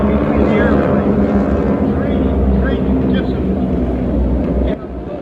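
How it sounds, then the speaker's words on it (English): Airplanes flying in formation produce a loud, continuous engine roar and drone that drops away abruptly near the end, while a voice talks over it. "Look at that formation. Look at the spacing between the airplanes."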